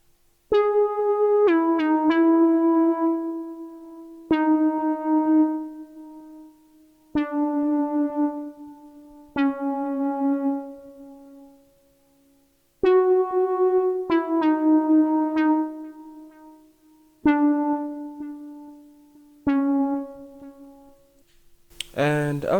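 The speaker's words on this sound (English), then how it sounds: "the Sine Lead is just playing a melody on top" A Sine Lead synth from Expand plays a slow melody of soft, pure plucked-sounding notes with gentle echo tails, some quick note pairs, each note decaying before the next.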